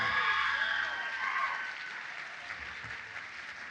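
Applause and cheering from an awards-ceremony audience, a dense wash of clapping with cheers that is loudest at the start and then tapers to steadier, softer clapping.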